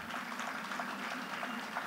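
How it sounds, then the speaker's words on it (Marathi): Audience at a school gathering clapping together, a dense, steady wash of applause from many hands throughout, filling the room. "या सर्वांसाठी पण आपण टाळ्या वाजवूया."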